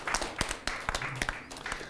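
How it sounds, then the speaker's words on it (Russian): Studio audience applause on a Russian school quiz show, a short burst of scattered claps lasting under two seconds. "тебе аплодисменты эти достаются."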